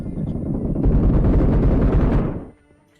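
Video game combat erupts in a loud, sustained roar of grenade blasts and gunfire for a couple of seconds, then cuts off abruptly into near quiet.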